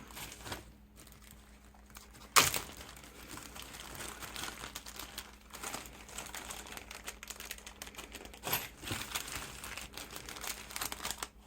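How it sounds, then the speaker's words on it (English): Crinkly plastic packaging of amigurumi safety eyes rustles and crackles in a steady stream of close, dense handling noise, with one sharp louder crackle early on and no talking. "Sorry for all the crinkly noise."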